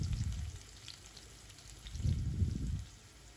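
Thinly sliced onions and lengthwise-cut green chillies fry in a pan with a soft, constant sizzle and a couple of low stirring rumbles, fairly quiet and with no talk.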